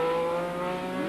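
A Ferrari 512 race car, run by the Penske organisation in Sunoco colours, drives at Montlhéry with a sustained loud engine drone, steady and close, with no talk over it.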